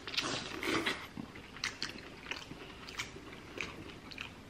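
Corn on the cob is bitten and chewed up close at a seafood boil, with repeated crunchy bites and wet chewing in an irregular rhythm and no talking.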